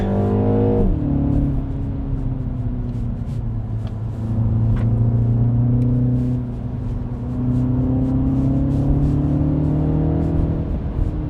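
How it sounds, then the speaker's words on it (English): A 2025 MINI Cooper S engine pulls hard through its power band, a rising then steady droning engine note with road rumble, heard from inside the car without talk. "Once you get the engine in that right power band, then it just takes off."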